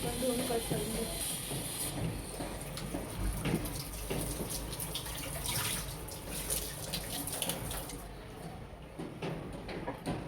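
Running tap water splashes steadily while coriander and green chillies are rinsed in a home kitchen, a continuous close hiss with handling noise throughout, and no clear talking.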